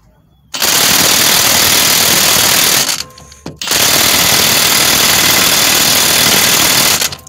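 Cordless impact wrench hammering on a crank bolt in a Massachusetts junkyard, two long loud bursts of rapid rattling hammering separated by a brief pause, close to the listener with no talking during the bursts.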